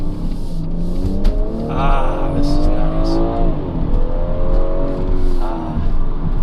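A BMW engine revs hard with the accelerator floored, a loud rising and falling drone that climbs in pitch over several seconds, heard from inside the car with someone talking over it.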